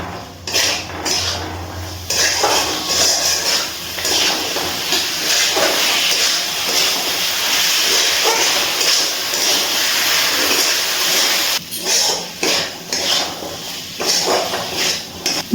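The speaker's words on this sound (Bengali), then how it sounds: "এবারে খুব ভালো করে সব কিছু একসাথে আবার একটু কষিয়ে নিচ্ছি।" Peas and fried potatoes with spices are stir-fried in a pan, giving a loud, continuous hiss and sizzle with scraping stirs and brief breaks near the end, close up.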